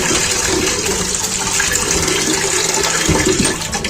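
Water poured steadily into a pot of washed mixed lentils for dal in a home kitchen, a loud continuous gushing splash close up that lasts the whole stretch with no talking.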